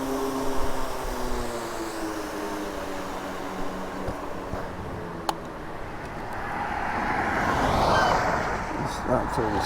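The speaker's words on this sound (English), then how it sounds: "Stop for this car." A car passes during a spring e-bike ride in Oneida County, New York, its tire and engine noise swelling and fading across the clip under wind rush and a rider talking.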